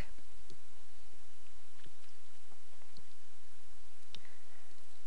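Computer mouse clicks during a Windows software installation, four or five sharp, separate clicks spaced a second or so apart over a steady loud background hiss.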